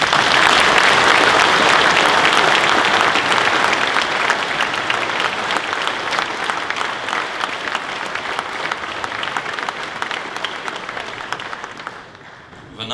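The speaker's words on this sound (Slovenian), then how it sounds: "jim namenjamo močan aplavz." Loud, dense audience applause fills a hall after a performance by a biology-society octet at a farmers' union anniversary celebration, sustained throughout and tapering off near the end.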